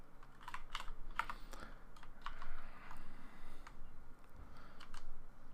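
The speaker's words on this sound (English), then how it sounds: "I have a DOS keyboard with MX Browns, and then the Kinesis Advantage, like weird keyboard with Browns" Fast, steady typing on a mechanical keyboard with Cherry MX Brown switches: a continuous run of crisp, close key clicks and thocks with uneven rhythm and no talking.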